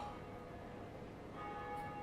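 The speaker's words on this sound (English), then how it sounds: "here is the first Bell of Awakening" A Bell of Awakening rings in Dark Souls as a faint, sustained metallic tone that hangs steadily over quiet, hushed game ambience for about two seconds.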